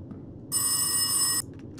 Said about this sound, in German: Ah, Telefon.